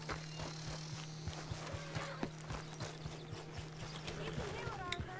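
Horses in Red Dead Redemption 2 clop steadily on hooves at a walking pace, with a low steady hum underneath and faint snorts near the end.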